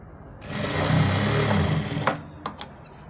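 An electric sewing machine stitches ladies' pant fabric with a steady, loud whirring run of about one and a half seconds, then stops, leaving a few sharp clicks.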